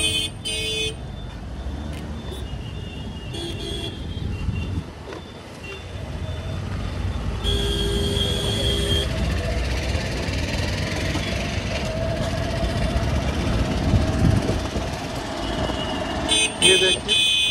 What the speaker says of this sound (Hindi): ये देखिए ट्रैफिक ही ट्रैफिक है आज।